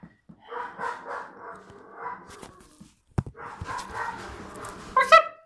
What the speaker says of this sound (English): I hear the dogs. Definitely think dog.